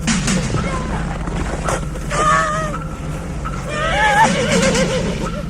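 A horse neighs twice, the whinnies rising and falling clearly over a busy background of rumble and voices, fairly close and loud.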